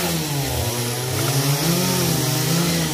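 A chainsaw drones steadily at full throttle while cutting down trees in a garden, one loud continuous engine roar close by with slight rises in pitch and no talking.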